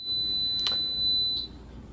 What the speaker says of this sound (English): That sound was, of course, the air fryer.